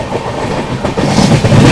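The Darbhanga–Amritsar Jan Nayak Express, an all-general-class train, gives off a steady close rumble with rhythmic wheel clatter that grows louder toward the end.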